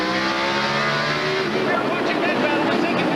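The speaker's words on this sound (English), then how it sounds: "Here comes more cars." Stock cars on the Sonoma Raceway road course roar past with loud, sustained engine noise that shifts in pitch as they pass. A commentator speaks excitedly over the engines.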